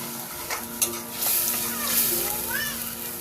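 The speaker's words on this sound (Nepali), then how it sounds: "मसला चाहिँ एकछिन भुट्न दिन्छु।" Masala spices frying in a pan for a rajma, potato and paneer curry, with a steady sizzle and the scrape of stirring throughout, plus occasional soft splatter; some quiet background speech is present.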